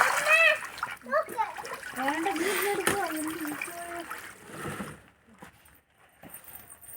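Children bathing in a water-filled tub during a Christmas celebration, with close splashing and sloshing water under excited children's voices, fading to quieter lapping at the end.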